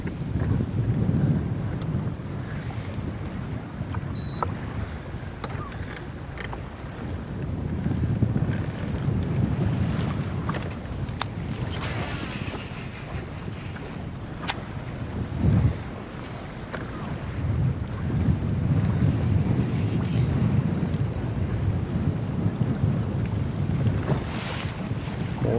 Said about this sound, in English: More wind than we've seen so far in this tournament picking up there now.